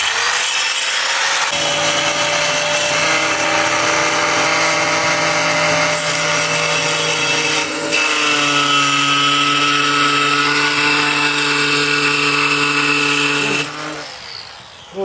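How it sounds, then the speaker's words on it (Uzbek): An angle grinder fitted with a dust-free attachment whines steadily for over ten seconds, grinding and rubbing against material with a sustained droning tone, then winds down at the end. "Bu bolgarkani nasatkasi pulsoslar uchun ishlatiladi ko'proq"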